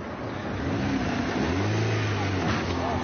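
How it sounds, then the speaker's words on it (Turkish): A taxi engine revs and accelerates close by as the car is driven toward the person filming, a loud, steady motor drone with rising pitch. "Bak üstüme arabayı da sürüyor."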